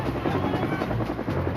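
Colombian Army helicopter running steadily, a dense continuous rotor and engine roar with low thumping pulses, loud and close throughout with no voices.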